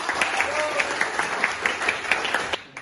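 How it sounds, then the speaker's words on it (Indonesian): Classroom applause from a group of vocational high school students, a steady patter of many hands clapping with a faint tonal murmur underneath, fading out near the end. "Tepuk tangan buat semuanya."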